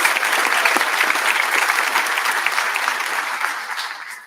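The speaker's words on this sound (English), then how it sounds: "Please join me in giving our coaching staffs and Mrs. Kehoe a round of applause" An indoor audience at a high school senior awards night gives a sustained round of applause. Dense clapping holds steady for about four seconds and then fades out.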